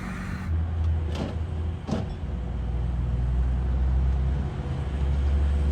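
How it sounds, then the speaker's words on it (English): Snow plow trucks rumbling through a winter parking lot before dawn, a loud low engine drone that builds and stays close, with two sharp clanks early on. "Didn't interfere with anybody's plowing. But man, those trucks are loud."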